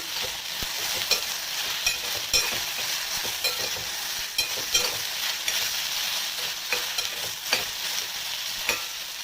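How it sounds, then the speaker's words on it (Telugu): Okra frying in hot oil as it is stirred, a steady close sizzle with irregular scraping and clinking stirring strokes, no voices. "అయితే మనం ఆయిల్లో వేసేసి బెండకాయలు మనం పక్కకి వెళ్ళి వేరే పని చేసుకోవచ్చు"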